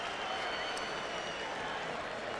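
Spectators at a heavyweight boxing match cheering and applauding after a knockout win, a loud constant roar of crowd noise and clapping filling the arena with a ringside commentator talking over it.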